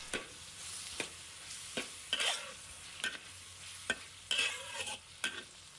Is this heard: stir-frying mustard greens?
yes